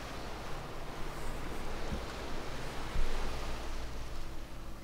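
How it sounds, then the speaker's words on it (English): Ocean surf in the game The Beginner's Guide makes a continuous, broad wash of wave noise that fills the space at a steady level, with a slight swell near the end and no talking. "It's interesting that there's the sound of an ocean."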